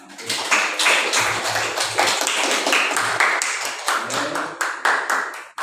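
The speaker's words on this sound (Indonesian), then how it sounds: "Bisa beri tepuk tangan." Audience applause after a group presentation at a school session, a dense wash of many hands clapping close by, steady and sustained for several seconds before cutting off abruptly.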